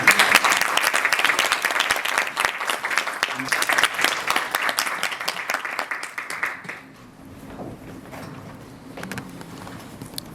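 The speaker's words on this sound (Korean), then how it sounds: "여러분 큰 박수 부탁드립니다" Hall audience applauding at the opening of an education development forum in Daejeon, a thick burst of clapping for about seven seconds that thins into scattered claps and quiet room noise.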